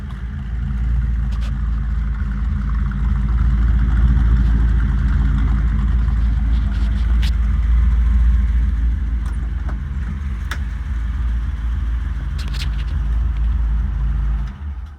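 A 1961 Chevrolet Impala with a 348 V8, four-speed and carburetors freshly rejetted to stock, runs steadily at a smooth idle, a deep continuous rumble heard close up with no talking.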